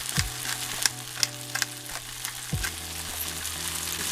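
Vegan chili base with cumin, oregano, pepper, salt and tomato paste frying in a pan, a constant close sizzle broken by several scraping stir strokes and a couple of knocks against the pan.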